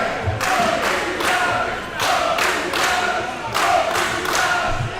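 Wrestling crowd at a Monsters Ball match chanting in rhythmic, evenly spaced bursts, loud and sustained, filling the arena with a repeated two-part chant.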